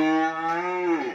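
A cow lows once on a cattle farm raising muscled beef cattle, a single drawn-out moo that stays close and steady for about a second, then drops in pitch at the end. No other sound competes with it.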